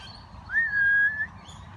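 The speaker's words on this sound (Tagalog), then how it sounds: "Ito yung malaking kakatu. Yung merong kulay dilaw sa ulo." A single drawn-out whistled call from a large sulphur-crested cockatoo with a yellow crest, heard in Australia, rising briefly and then holding steady for under a second over quiet background hum.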